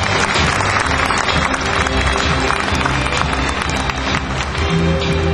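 A crowd at a university entrance ceremony claps continuously in dense, busy applause that stays loud and even for several seconds, with a low murmur underneath.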